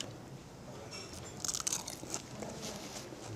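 Crunching bites into pan-fried dumplings with a crispy bottom and soft top, a few close, crisp crackles clustered mid-clip over a quiet room.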